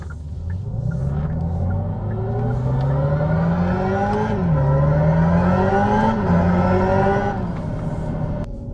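The synthetic active engine sound of a Hyundai IONIQ 5 N in evolution mode rises and falls like a revving engine through gear shifts, loud and close inside the cabin, with no talking.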